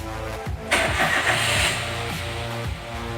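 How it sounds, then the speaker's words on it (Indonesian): Car engine cranking then catching during an EFI relay check in a workshop: a brief starter whir, a sharp surge as the engine fires and revs up, then settling into a steady idle. "Sekarang kita coba nyalakan mesin."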